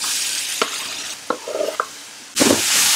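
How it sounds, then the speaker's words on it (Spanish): Chopped onion frying in butter in a pan, with short stirring scrapes and a soft sizzle that swells loudly near the end, close by with no talk. "Y cocinamos hasta que la cebolla se dore."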